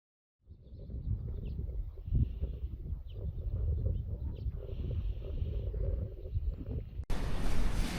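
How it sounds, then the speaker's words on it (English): Strong wind gusting outdoors at a greenhouse site, a steady roaring rumble with shifting buffets against the microphone, a few faint bird chirps above it, and a sudden harsh blast of noise near the end. "Yeah, it's windy out here today."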